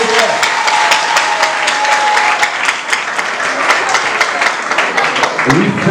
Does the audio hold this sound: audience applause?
yes